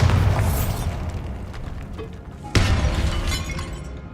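Two loud blasts from the Bombarda spell in Hogwarts Legacy, each a sharp crack followed by a shattering, rumbling tail that slowly fades, the second arriving about two and a half seconds after the first.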